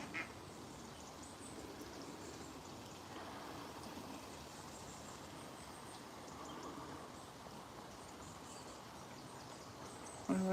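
Ducks quacking faintly in the distance along an urban walking trail, set against steady outdoor ambient noise with no nearby talk.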